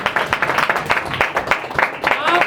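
Congregation at a Hindi church sermon clapping loudly on request, a dense burst of applause with sharp claps over a couple of seconds, voices rising above it.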